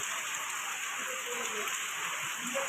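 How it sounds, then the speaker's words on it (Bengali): Heavy rain falls in a steady, even hiss without pause, with faint voices or birds barely audible beneath it. "গতকাল দুপুর থেকে বৃষ্টি শুরু হয়েছে মাঝখানে একটুখানি থেমেছিল ঠিক আছে মানে এই ঝমঝম করে পড়েই যাচ্ছে"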